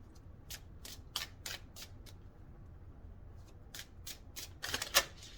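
Tarot cards from a Sacred Cherry Tarot deck are shuffled and drawn in a run of crisp riffling bursts, close and fairly quiet, ending in a denser flurry near the end.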